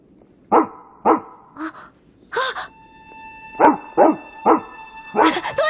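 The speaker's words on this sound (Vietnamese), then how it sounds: "Nó là một con chó dũng cảm" A cartoon dog barks in a series of sharp, separate yips and woofs, some with a whining edge, loud and close against a quiet background.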